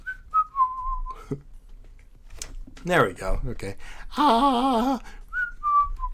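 Brief whistle sound effects from a Danganronpa fangame, Another Despair Academy: a short whistled tone at the start and another near the end, with a wavering whistle-like burst in the middle, all among speech.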